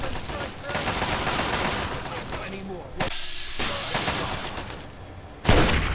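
Sniper rifle fire in a video game, with sharp shots cutting through dense game noise and sustained background rumble, and a voice talking over the action.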